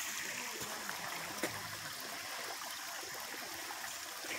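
Creek water runs in a soft, steady wash at an outdoor evening spot, fairly faint and continuous with no talking.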